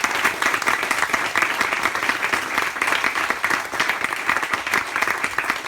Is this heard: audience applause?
yes